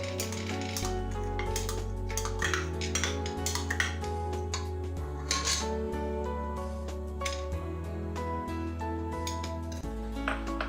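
Curry ingredients for cheera parippu curry being moved into a pressure cooker, with repeated metallic clinks and scrapes of a spoon against steel over a steady low hum, close and fairly busy, with no voices.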